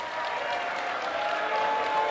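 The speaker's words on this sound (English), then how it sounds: "Please hold your applause." Steady applause from the audience at a New Jersey lieutenant governor debate fills two seconds, even and continuous at moderate distance.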